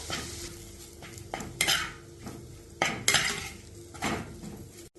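Chilli powder, asafoetida and roasted ground fenugreek being sautéed in a pan for pineapple pickle, with a soft sizzle under repeated scraping and clinking of a spoon against the pan in several loud bursts.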